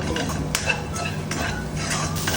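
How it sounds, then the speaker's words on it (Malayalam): A spoon stirs chicken pasta seasoned with salt and pepper in a pan, making continuous scraping and clinking over a soft sizzle, close and steady without pauses. "നന്നായിട്ടൊന്ന് ഇളക്കി"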